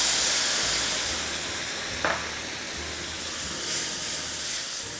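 Hot browned pan being deglazed with wine, giving a steady steamy hiss throughout with a brief sharper sizzle burst midway, close and continuous, no talking.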